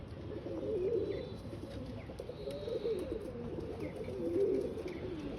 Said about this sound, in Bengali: পায়রাগুলো এই এখন উঠছে।